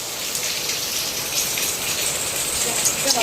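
Heavy monsoon rain pours steadily outdoors, a dense, even hiss of downpour on surfaces that stays constant and fairly close throughout, with no talking.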